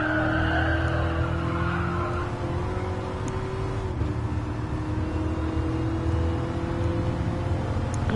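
A racing car braking in a racing video game: a steady, loud engine drone with tonal whine that shifts and drops in pitch as the car slows, with tyre noise underneath.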